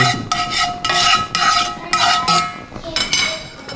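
Bobcat meat being stirred with garlic powder in a pan, a utensil scraping and rubbing in repeated strokes with light clinks, close and fairly loud, no talking.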